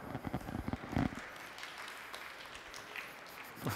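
An audience at a Talent Connect Vegas 2013 conference session claps in a short wash of applause, dense patter rising after a brief voice and fading into murmurs.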